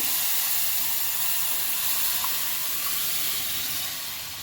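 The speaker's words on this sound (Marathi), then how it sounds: "आता आपण यामध्ये भाजी घालून घेणार आहोत. आपण ही भाजी जपूनच घालायची, अंगावर उडू शकते." Chandanbatwa wild greens land in hot fried masala and hiss steadily, a loud even steam-like sizzle that stays constant and fades slightly at the end, with no talking.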